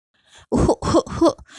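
Three or four harsh, close coughs in quick succession, loud and abrupt, with no talking.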